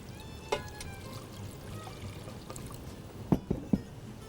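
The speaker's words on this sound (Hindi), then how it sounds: "थोड़ा पानी डालेंगे" Water pours into a pot of nihari cooking on the stove, a low, steady splashing wash with a few sharp clinks of metal near the end and no talking.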